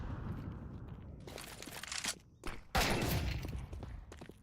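Rapid bursts of gunfire in a Counter-Strike match, a tournament game in the CCT East Europe play-in, with clustered shots and sharp loud volleys around the middle and end, mixed with footsteps and thuds and no talk over them.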